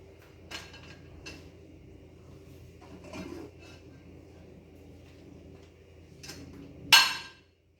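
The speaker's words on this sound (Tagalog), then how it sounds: "Pang-anim, ilagay ito sa dish rack." Quiet clinks of dishes being set down at intervals, ending in a louder clatter of a plate placed in a rack.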